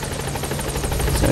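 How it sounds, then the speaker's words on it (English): Helicopter arriving at a landing zone in the video game Metal Gear Solid V: The Phantom Pain, a steady rotor thrum with rhythmic blade chop, close and loud, growing slightly toward the end with no talk. "now we just wait for the helicopter"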